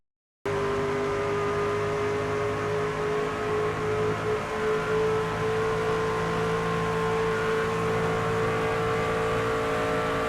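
Racing truck engine in the NASCAR 25 video game, running on cold tires after a right rear spring adjustment, drones steadily and loudly throughout with a constant high engine whine and no talk.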